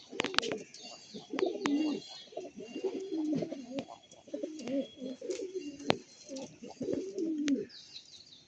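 Pigeons coo in repeated low, throaty bursts after release, a steady rhythm of soft phrases with occasional sharp chirps and wing flutters, close and fairly quiet, with no talking.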